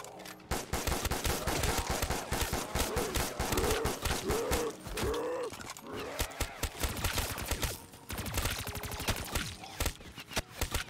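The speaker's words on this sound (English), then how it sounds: "I'm using the KN-44" KN-44 assault rifle fire in the zombies mode of Black Ops 3 comes as long, loud, rapid bursts of automatic shots with brief pauses between them. Faint game sounds run underneath.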